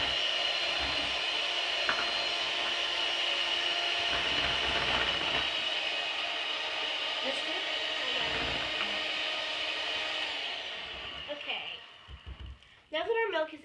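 Electric mixer whirring steadily through cupcake batter as strawberry milk is worked in, a loud continuous drone that cuts off near the end with a few clattering knocks.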